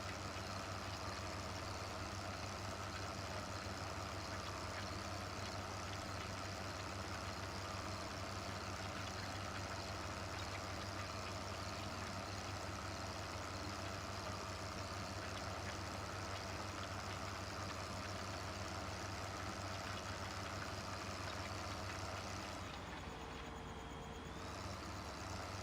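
Kirovets tractor engine pulling a wide cultivator in Farming Simulator 15, a steady, loud low drone with constant mechanical hum throughout, briefly shifting near the end.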